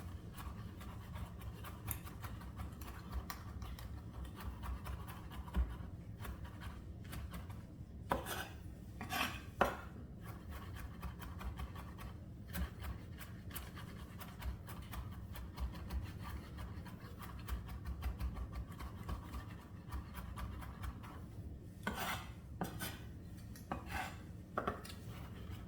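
A knife chops parsley on a cutting board, with faint scattered taps and scraping strokes spread over a quiet stretch, a few louder bursts of rapid chopping among them.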